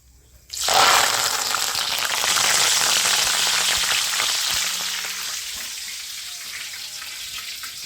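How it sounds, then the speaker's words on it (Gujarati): Curry leaves dropped into hot oil while making a puffed-rice chevdo snack burst into a loud, dense sizzle that starts abruptly and then settles into a steady crackling fry, fading slightly toward the end. "હવે આપણે મીઠા લીમડાના પાંદ આપણે તેલમાં તળી લેવું"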